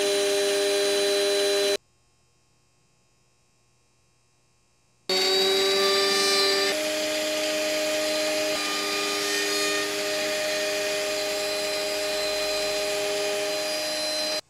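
Power tool cutting and shaving a thin wooden tip for a traditional Japanese wood craft, a loud steady whine with a sharp rise in pitch, broken by a few seconds of near silence before resuming.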